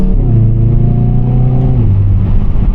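A 2024 Hyundai i30N engine pulls hard at night from inside the cabin, its note climbing steadily before dropping at a gear change and building again.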